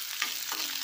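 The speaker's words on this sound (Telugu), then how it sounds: "ఉల్లిపాయ ముక్కలు కొంచెం వేగేదాకా 1 నిమిషం వేయించుకుందాం." Chopped onion pieces sizzle in a hot pan as they fry, with a steady crackle and a couple of brief stirring scrapes, close and alone.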